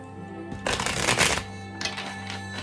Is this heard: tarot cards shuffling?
yes